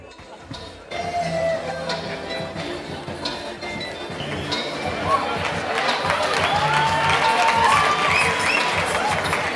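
A live audience at a comedy show applauds and cheers a comedian onto the stage; the clapping swells after a brief quieter opening and carries on as a dense wash, with voices and shouts mixed in.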